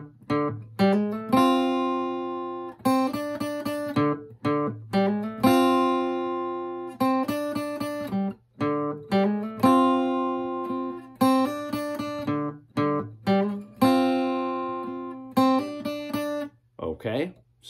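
An electric guitar plays a riff during a practice lesson, with repeated plucked notes and short phrases that ring and decay, separated by brief gaps over a faint low hum.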